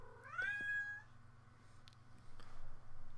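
A house cat meows once with a rising, drawn-out cry near the start. Quieter rustles follow and a low steady hum runs underneath throughout.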